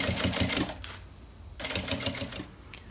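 A sewing machine stitches a topstitched fold on a fabric school pencil case, running in two bursts of rapid, close mechanical whirring separated by a brief quieter pause.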